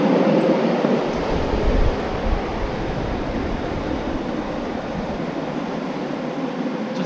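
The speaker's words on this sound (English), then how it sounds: "A1 peppercorn locomotive that was finished in 2009." An A1 Peppercorn live steam locomotive, a newer build finished in 2009, runs along the track with a steady, loud rumbling roar that continues throughout, with no voices.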